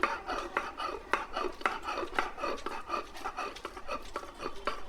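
Gourd leaves ground together with fried onion, garlic, green chili and cumin for a Bengali bharta, heard as steady rhythmic rasping strokes, roughly two or three per second, close and fairly loud.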